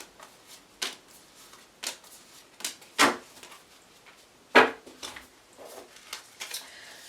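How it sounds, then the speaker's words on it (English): Tarot cards are shuffled and pulled from the deck, close up, with soft riffles and slides and two sharper snapping hits, in an irregular rhythm without speech. "I'm going to pull 6 cards again."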